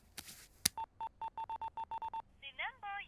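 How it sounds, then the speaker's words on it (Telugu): A telephone being dialed, a rapid string of about ten short, even keypad tones after a brief rustle and click, followed by a short burst of warbling electronic ringing, quiet and close. "అరే వాడికి ఫోన్ చేయరా."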